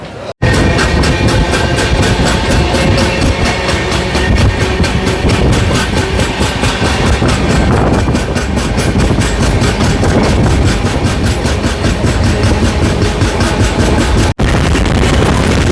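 The Jan Shatabdi Express, train 12080 from Hubli to Bengaluru, runs just after leaving Harihar railway station, a loud, steady rolling rumble that fills the whole stretch with no voices.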